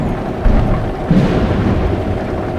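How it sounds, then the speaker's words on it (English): Thunder in the Euro Truck Simulator 2 driving game, a deep rolling rumble that swells in a couple of heavy surges over steady rain, loud and close. "I do like the new thunder and lightning effects in this game now."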